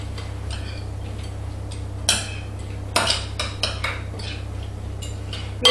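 Chopped salad ingredients are tossed in a bowl, with scattered clinks and scrapes of utensil against the dish in short irregular bursts over a quiet background.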